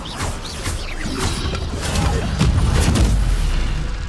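A fire spell cast in Hogwarts Legacy, a loud whooshing roar with booming bursts that swell and stay dense for several seconds.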